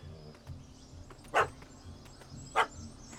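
Two sharp dog barks in The Witcher 3, a puppy barking at a cat that fled up a tree, spaced about a second apart and fairly close over a low background hum.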